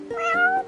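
A single cat meows in Final Fantasy XV, one drawn-out, rising-and-falling call heard up close and clearly with nothing else around it.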